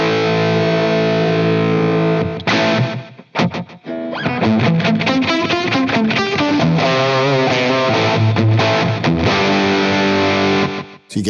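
A distorted electric guitar plays chords and riffs through a Wampler Catacombs delay/reverb pedal, drenched in repeating delay echoes with feedback, with brief gaps where the echoes trail off.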